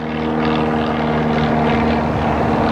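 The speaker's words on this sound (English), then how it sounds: "We have another airplane." Small propeller airplane drones overhead near a small local airport, a steady low engine hum with a constant buzzing tone that holds at a moderate distance without fading.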